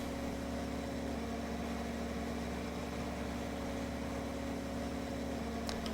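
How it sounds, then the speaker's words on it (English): A tractor engine in Farming Simulator 2013 drones at a steady idle-like hum, low and continuous for several seconds with an even, unchanging tone and a faint tick near the end; no one speaks. "As soon as you lift that barrel rate, you can hear the engine change its tone."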